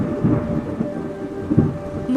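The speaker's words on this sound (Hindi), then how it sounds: "बादल गरजने लगते हैं और जोरदार बारिश शुरू हो जाती है।" Thunder rumbles low beneath a steady wash of heavy rain during a storm, with a couple of deeper rolls rising out of the constant downpour and no voices.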